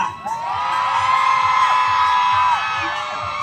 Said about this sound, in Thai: ขอเสียงกรี๊ดดังๆให้กับพี่ๆจ้ะ